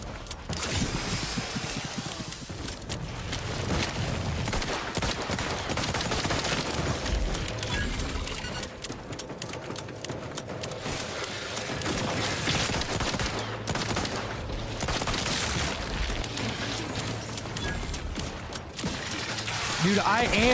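Rapid, continuous gunfire from a gun in the video game The Outer Worlds 2, with dense mechanical clatter and bursts of shots layered over busy game sounds for the whole stretch, with a player's voice now and then.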